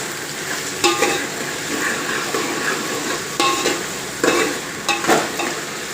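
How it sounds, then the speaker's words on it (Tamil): Onions being stirred and sautéed in a pan until golden, a steady close sizzle with a few louder scraping strokes of the spoon against the pan. "வெங்காயத்தை நல்லா வதக்கிடலாம். பொன்னிறமாக வதங்கணும் வெங்காயம்."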